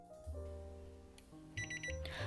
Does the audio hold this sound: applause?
no